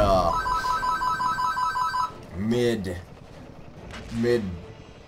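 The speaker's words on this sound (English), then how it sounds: "Also, that's a phone call." A phone ringtone chirps in a quick repeating electronic pattern for about two seconds during World of Tanks gameplay, then someone talks over the game sounds.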